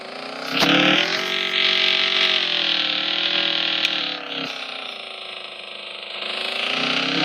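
Video-game KTM Duke 200 motorcycle engine droning steadily at high pitch, rising and falling slightly as it revs, loud and continuous throughout.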